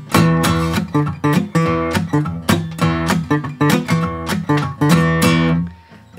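Acoustic guitar playing the main phrase of a blues song, a driving, percussive blues riff with sharp repeated strums and plucked bass notes, loud and close with no voices.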